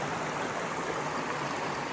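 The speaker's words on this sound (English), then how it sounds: "Near this creek. Near this natural environment. Water flowing down." Creek water flows outdoors in a steady, broad rushing murmur. It is continuous and even throughout, with no voices over it.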